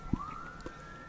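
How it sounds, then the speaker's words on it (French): A fire engine or police siren sounds outside, a faint, steadily rising wail heard at a distance after a short thump. "Et vous entendez, il y a les pompiers ou la police là."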